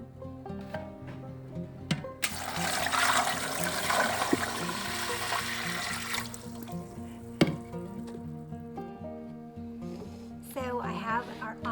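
Tap water runs into a pressure canner being used for steam canning chicken, a loud gushing pour lasting a few seconds before cutting off, amid kitchen clatter and background hum.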